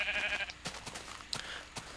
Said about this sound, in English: go a little bit out of my way to smack a sheep